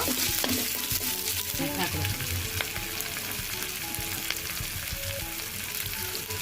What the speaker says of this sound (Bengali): তো এগুলো ভালো করে ভেজে নিব।